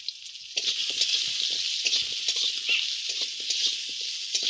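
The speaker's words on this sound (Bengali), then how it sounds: "হালকা করে একটু নেড়ে নেব তো আলুগুলো" Potatoes seasoned with salt and turmeric sizzle in a pan while being stirred, a steady hiss of frying with scattered light scraping and tapping from the stirring, close and moderately loud.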